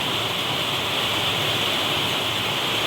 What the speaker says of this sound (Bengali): অনেক জোরে জল এলে ওই যে মুখটা দিয়ে জল পড়ছে।